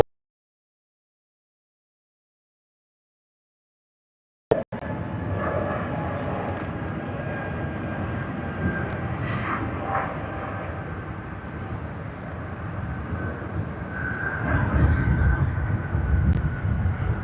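A Singapore airliner landing at Sydney Airport comes in after a silent opening as a steady, broad jet roar, heard from a distance and holding level before swelling slightly toward the end.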